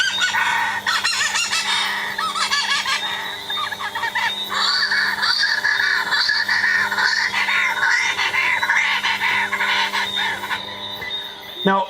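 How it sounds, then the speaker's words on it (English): Recorded calls of an Audubon's shearwater, a seabird from Saba, a steady run of harsh wheezy, cackling and crowing notes, loud and fairly close, continuing throughout without talk over it. "This is an Audubon shearwater."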